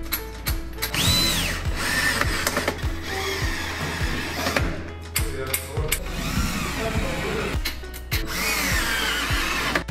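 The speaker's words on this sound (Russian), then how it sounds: "Затем с помощью болтов из комплекта фурнитуры соединяем основание с подъемным механизмом." Rapid, steady ratchet clicking and the whir of a driver tool as bolts from the hardware kit fasten the base of a white 160x200 double bed to its lift-up mechanism, close and continuous with brief pauses.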